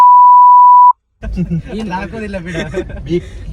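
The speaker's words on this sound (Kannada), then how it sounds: "ಆಮೇಲೆ ಬೀಪ್ ಸೌಂಡ್ ಬಂತು ಬಿಡಿ" A single steady electronic beep, a pure continuous tone lasting just under a second, loud and clean, followed by a short silence and then a person talking.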